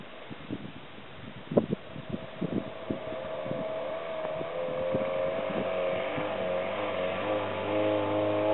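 A vehicle engine revs hard while climbing out of a pit. Opening bursts give way to a steady, rising, sustained drone with wind buffeting the microphone.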